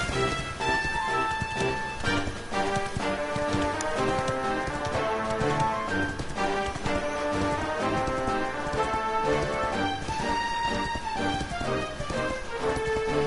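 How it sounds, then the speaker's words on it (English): Steady clip-clop of horse hooves trotting at an even pace in the video game Dragon Quest XI, set against continuous layered music that stays loud throughout. "Just ride a horse like you normally do."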